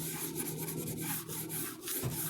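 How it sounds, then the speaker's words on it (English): Hand rubbing a cloth across a stained wooden surface in a motel room, a soft continuous scrubbing with brief strokes, quiet and close, with no talking. "I just wiped off some more of it"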